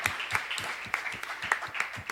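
A church congregation claps for a couple of seconds in a scattered, uneven rhythm, with individual claps standing out against a soft wash of applause in a large worship room.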